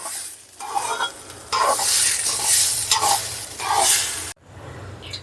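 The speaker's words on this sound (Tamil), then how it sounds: "டைம் வச்சுக்கிட்டு வறுத்துட்டு ஆஃப் பண்ணிவிடுங்க" Mutton biryani with seeragha samba rice being stirred and fried in a pan, with a steady close sizzle and scraping spoon strokes in rhythmic surges, ending in a sudden cut.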